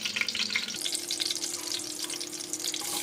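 Thinly sliced onions fry in hot ghee with bay leaf and shahi jeera for a biryani. The sizzle is steady and crackling, with a low background hum and no speech.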